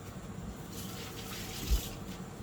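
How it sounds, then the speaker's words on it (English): Water from a running kitchen tap flows over hands being washed during cooking. It makes a steady, close hiss and splash that lasts the whole short stretch. "let me wash my hands."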